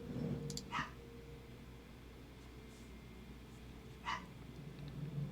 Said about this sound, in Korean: 강아지가 조금 짖고 있는데